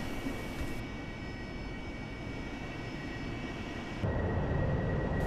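An AV-8B Harrier jet taxiing in the DCS flight simulator gives a steady, loud engine roar and whine that holds constant, then grows slightly louder and rougher near the end.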